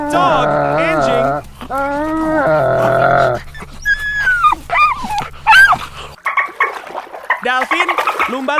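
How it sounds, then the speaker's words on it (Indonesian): Dog vocalizations, whimpers and barks, in an animal-sounds lineup, sounding close and fairly loud in several short bursts after a stretch of other harmonic calls. "Dog, anjing."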